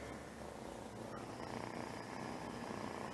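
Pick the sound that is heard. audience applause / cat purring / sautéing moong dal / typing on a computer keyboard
cat purring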